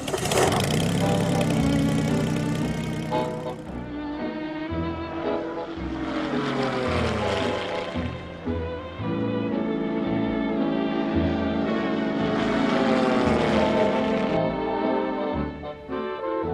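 A Spitfire's propeller engine drones loudly overhead, its pitch swelling and falling as the plane passes, continuous and without any talk.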